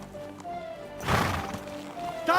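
Horse neighing with clip-clopping hooves in the medieval video game Kingdom Come, a broad burst of sound in the middle over steady background music, ending with a brighter whinny.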